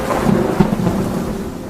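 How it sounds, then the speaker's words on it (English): A thunderstorm with howling wind and pouring rain rumbles as a dense, continuous wash of low roar and rainfall, steady and fairly loud throughout a short stretch. "the wind howled and rain poured down"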